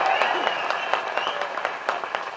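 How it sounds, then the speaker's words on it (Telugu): Applause from the audience at a meeting, a close busy patter of hand claps with sharper individual claps standing out at an even rhythm, continuous for the whole stretch. "మనమందరం కూడా వారికి ఒకసారి గట్టిగా చప్పట్లతో మన సంతోషాన్ని వెలిగిస్తున్నాం"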